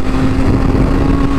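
A Triumph Tiger 800 or BMW S1000 motorcycle engine accelerating, a loud, steady close-up drone with a strong constant tone throughout.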